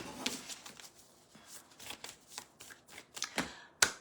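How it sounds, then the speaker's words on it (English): A deck of cards being shuffled repeatedly, soft riffling bursts with light papery snaps, close and fairly quiet, no talking. "Giving these cards a good shuffle"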